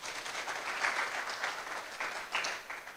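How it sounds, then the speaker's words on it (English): Fairly faint applause from an audience at a university inaugural lecture, many hands clapping in a steady patter with small surges, heard at a distance. "Clap for her for me,"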